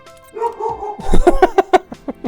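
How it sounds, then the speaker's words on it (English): A dog barks in a quick run of sharp, loud yaps close by, preceded by softer whining tones, with no talking. "Here's my dog."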